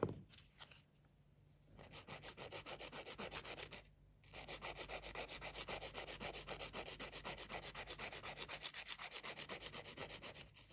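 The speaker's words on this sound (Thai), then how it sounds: "จะพึ่งตะไบมาตรงนี้นะคะ เดี๋ยวเล็บจะสั้นลง" Nail file rubbing back and forth across natural fingernails to shape them into an almond form, a steady rasping stroke pattern that pauses briefly twice, close and clear with no talking.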